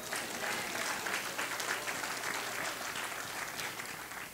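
Congregation clapping during a Sunday church sermon, steady dense applause from many hands that fills the whole stretch at an even, fairly loud level.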